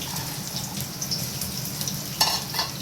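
Chopped onions going into hot ghee for chicken dum biryani give a steady close sizzle, with brief louder crackling bursts near the end as they hit the fat.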